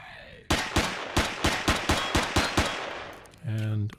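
Rapid bursts of laser rifle gunfire ring out in an abandoned mine in the Empyrion game, about ten sharp loud shots at a fairly steady rhythm, ending with a short humming electronic tone.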